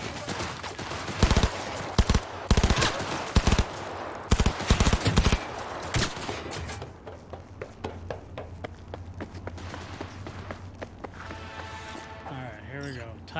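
Gunfire in the Cyberpunk 2077 video game: loud rapid bursts of automatic fire and single shots crack out in quick clusters, then continue more sparsely with scattered impacts, while a voice talks at times.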